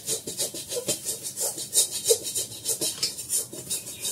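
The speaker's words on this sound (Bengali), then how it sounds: "কড়াটা মাজতে খুব কষ্ট।" A wok (kadai) scrubbed by hand, steady rhythmic rasping strokes about three or four per second, close and fairly loud, with a faint metallic clink partway through.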